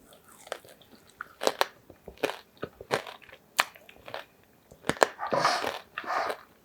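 Someone bites into and chews a keto chocolate Swiss roll filled with Italian meringue, giving a string of close, crisp crunches and soft mouth sounds in irregular bursts, with a longer chewing stretch near the end.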